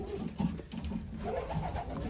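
An imported racing pigeon from the Netherlands coos softly up close, a few low, throaty, rolling calls in quiet surroundings.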